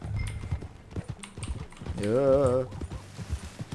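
Horse hooves clip-clop on the ground in Red Dead Redemption 2, a quick rhythmic clatter running under game dialogue, with a sustained horse-like call in the middle.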